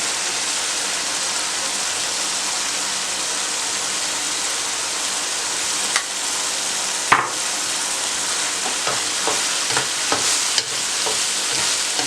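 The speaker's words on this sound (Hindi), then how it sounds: "अब आपने मूंग दाल इसमें डालनी है।" Moong dal goes into a simmering gravy in a pot, a steady broad sizzle that continues throughout, with a few sharp scrapes and clinks of stirring near the end.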